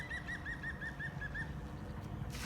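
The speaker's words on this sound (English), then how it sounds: "Here comes the bird life." Water birds arrive at a lake in spring with a quick series of about eight faint chirping calls, followed by a brief burst of wing flapping against a quiet outdoor background.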